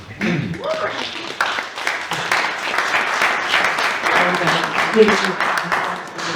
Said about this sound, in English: maybe the big applause goes to Hannah, pulling everyone together